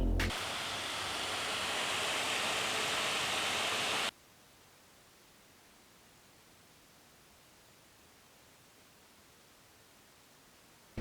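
Loud, steady whooshing of ASUS ROG Zephyrus laptop cooling fans under load roars for about four seconds, then cuts abruptly to near silence from an M1 MacBook Pro under load, with only a faint background hiss.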